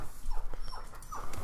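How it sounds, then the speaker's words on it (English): A dog whines and whimpers in short, high, rising cries, three or four times over a second and a half. It wants to go outside into light drizzle. The whines are close and fairly soft, with no talking over them. "Sorry about my dog whining."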